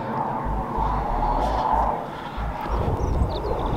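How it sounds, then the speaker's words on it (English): A jet aircraft passes over a coastal path near Slapton, a broad, steady rumbling roar filling the background at a constant loud level throughout, with no voices. "It's actually the sixth jet aircraft which has flown over here"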